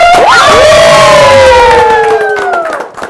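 A young crowd at a children's music show cheers and shouts loudly together, with high excited voices swelling at once and tailing off after a few seconds.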